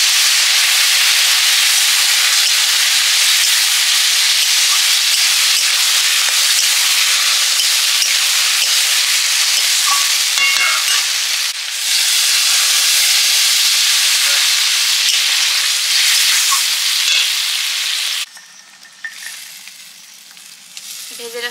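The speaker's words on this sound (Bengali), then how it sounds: "এবারে সর্ষে বাটাটা দিয়ে দেবো।" Mustard and cumin paste, ground together, sizzling in a hot frying pan while cooking chuno fish jhal chorchori, a loud steady frying hiss that drops abruptly near the end.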